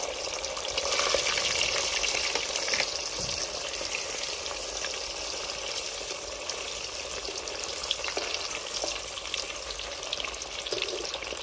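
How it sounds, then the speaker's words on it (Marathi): Paneer pieces fry in mustard oil, a steady close sizzle with fine crackling and scattered pops running throughout. "मग आपण पनीरची पीस सोडून घेऊ। त्याच्यात छानपैकी सोनेरी रंग येईपर्यंत तळून घेणार आहोत।"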